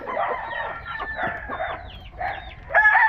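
Several chickens, Texas gamecocks on a farm in the Philippines, cluck and squawk nearby, with a rooster crowing loudly at the end.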